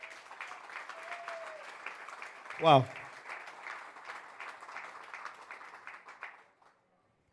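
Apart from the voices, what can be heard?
congregation applauding in church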